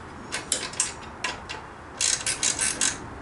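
Bolts on a car wheel being snugged down with a ratcheting tool, heard as several short bursts of quick mechanical clicking, close and fairly quiet, with a denser run of clicks toward the end.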